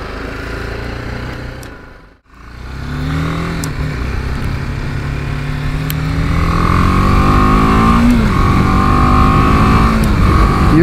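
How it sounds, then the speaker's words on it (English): A BMW G310 GS small-capacity motorcycle engine revs and accelerates nearby, its buzzy exhaust note rising in pitch through the gears after a brief dip, growing louder. "If we listen to that exhaust note, also you can hear it's a small capacity motorcycle"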